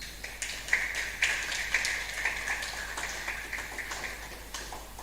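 An audience claps at a student exchange closing ceremony where certificates are presented. The clapping is a steady, dense, fairly distant patter that lasts the whole clip, with sharper claps rising here and there.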